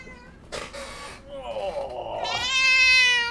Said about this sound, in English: You're the one meowing for attention.